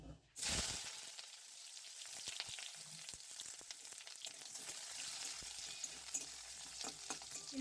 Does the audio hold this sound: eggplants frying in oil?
yes